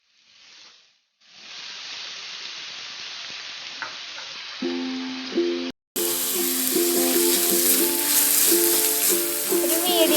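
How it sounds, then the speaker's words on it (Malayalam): Chopped onions go into a hot pan while cooking semiya: a steady hiss of frying starts suddenly and keeps going, close and loud, over background music. "അടുത്തതായിട്ട് ചെറുതാക്കി അരിഞ്ഞ് വെച്ചിട്ടുള്ള സവോള ചേർത്ത് കൊടുക്കുകയാണ്"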